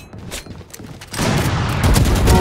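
A Raze satchel blast pack goes off in Valorant, a sudden loud, broad burst that jumps up and stays dense and roaring for over a second, with game sounds beforehand.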